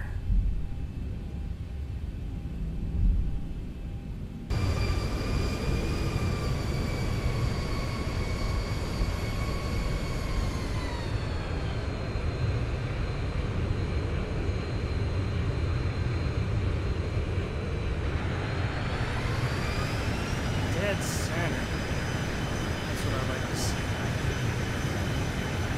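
An airliner in Microsoft Flight Simulator rolls down the runway with a steady rumbling roar and high engine whine that winds down as thrust is cut and the brakes are applied, then spools back up; a voice talks faintly under it.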